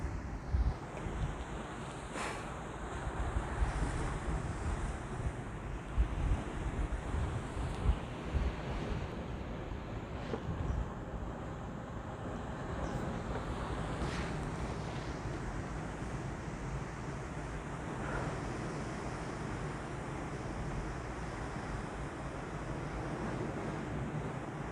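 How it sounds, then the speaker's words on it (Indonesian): Large ocean waves on the south coast of Malang break and wash continuously, a broad rushing roar mixed with wind buffeting the microphone, steady and fairly distant with occasional louder surges. "Di sini ini ombaknya sangat besar ya kawan."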